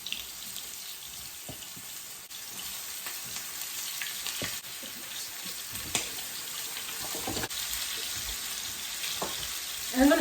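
Chicken pieces for chicken cacciatore browning in a hot pan, a steady loud sizzle running continuously with occasional small pops and faint handling sounds.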